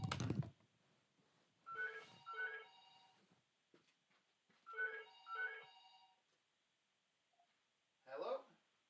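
A telephone rings in repeated double bursts, moderately near, with a short sharp noise at the start and a brief voice near the end.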